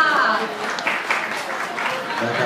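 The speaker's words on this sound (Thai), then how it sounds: "ขอเสียงปรบมือด้วยค่ะ" At a cosplay event at Comic X10 Summer 2013, an audience gives a brief round of applause, a soft, diffuse patter of many hands partly under an emcee's voice.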